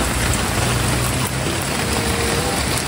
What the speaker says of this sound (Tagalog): Hindi pala to snow showers, pambihira. Ulan pala to.